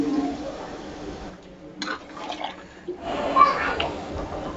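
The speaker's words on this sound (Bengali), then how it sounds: "কষানো হয়ে গেছে, দিয়ে দেব আরও একটু জল।" Water splashes into a pan of simmering gila tengri, a brief gurgling pour rising over a steady cooking hiss and settling back into the bubbling background.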